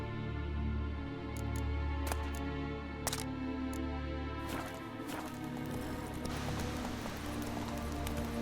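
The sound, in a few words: horse hooves galloping, Roach in The Witcher 3 video game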